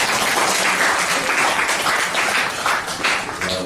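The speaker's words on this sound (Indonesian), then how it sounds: "Oke, tepuk tangan buat mereka." A church congregation breaks into steady, dense applause that carries on loud and continuous from start to finish, with faint voices underneath.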